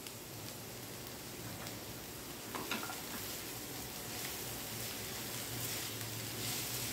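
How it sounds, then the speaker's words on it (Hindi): Corn kernels and salt being stirred into a stuffing mixture in a hot pan give a steady sizzle with scraping stir strokes throughout, close and even in level, with no talk. "अब इसे अच्छी तरह से मिक्स कर लेते हैं।"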